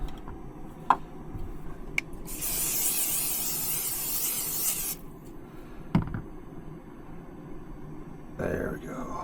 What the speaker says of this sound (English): olive oil cooking spray.